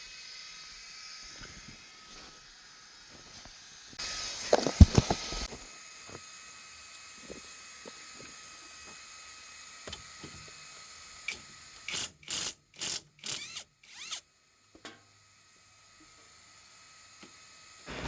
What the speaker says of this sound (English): The one band impact wrench definitely did not disappoint.